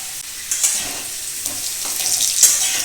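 Potatoes fry with turmeric in a pan, giving a steady close sizzle with soft stirring scrapes and a few brighter crackles throughout.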